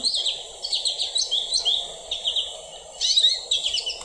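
A finch sings close and clear, a stream of melodic, twittering notes with a small whining tone, phrases repeating over a few seconds with no other voices.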